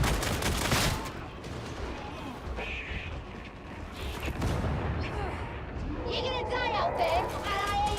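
An enemy machine gunner fires in the video game Warhammer 40,000: Darktide, rapid bursts of gunfire and heavy blasts filling a chaotic combat scene, with a player talking over the noise.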